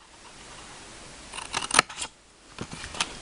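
Scissors snip through a paper treat bag to cut bottom flaps, a few short crisp cuts near 1.5–2 seconds and again toward the end, close and fairly quiet in an otherwise still room.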